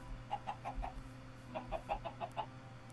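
A chicken clucks in two quick runs of short, soft clucks, faint and close, over a low background hum, in a hardcore modded Minecraft game on an alpine mountain.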